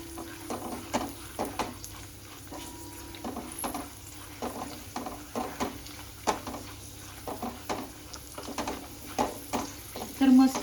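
Dry fruits roasting in a little ghee in a pan for mango shira, heard as quiet, irregular spoon scrapes and taps against the metal over a faint background hiss, with no talking.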